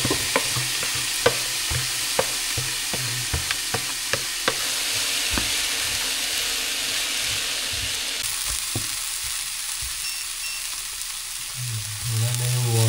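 Corn kernels roasting in a pan, sizzling and crackling up close with a run of sharp stirring taps early on, then a steadier hiss; no one speaks.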